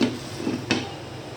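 Cauliflower and potato with salt, turmeric and chili being stirred in a pan, giving a few close scraping clanks of a utensil against the metal over a faint sizzle, with no talking.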